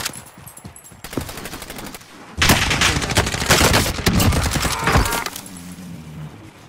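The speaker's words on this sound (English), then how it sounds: "Oh shit, I'm being shot at somewhere else." Rapid automatic gunfire in Call of Duty Warzone, a dense, loud burst of shots that swells mid-clip and then tapers, following lighter scattered shots near the start.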